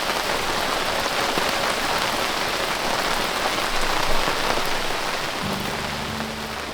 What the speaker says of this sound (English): Okay, it's starting to pour rain.